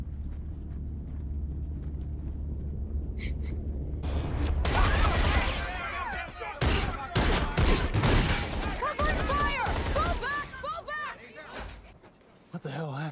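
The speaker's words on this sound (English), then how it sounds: "Were those gunshots?" Gunfire in a TV episode of The Expanse: a burst of loud, rapid shots and sharp impacts sweeps in mid-clip after a low rumbling ambience, sounding like a fusillade, with dialogue around it.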